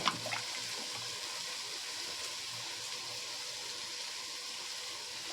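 Water drains off freshly boiled mutton pieces in a home kitchen, a faint, continuous trickling hiss with a soft splash at the start and no voices.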